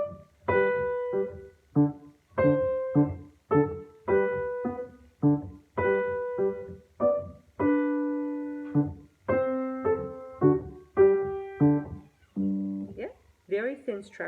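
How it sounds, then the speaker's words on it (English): A piano minuet with a thin texture, detached notes and independent hands, played steadily in short phrases, close and clear with no talking. "Minuet could sound something like this."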